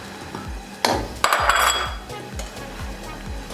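Spiced mutton being bhuna-roasted in a pot with cinnamon, black cardamom and green chillies for a dhaba-style dish. A steady sizzle runs throughout, with a regular low thumping and a couple of sharp metallic clanks of the spoon against the pot.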